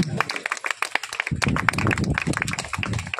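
A church congregation claps and applauds during a sermon, a steady stream of crisp, uneven handclaps mixed with voices speaking and calling out over them.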